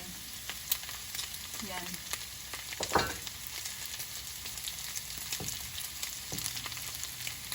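Pork and red onion sizzle and fry in a pan for Bicol Express, a steady crackling hiss with a few stirring scrapes and a brief knock; a voice speaks a single short word over it.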